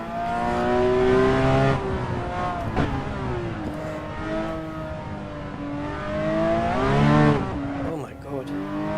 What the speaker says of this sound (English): You'll hear the engine.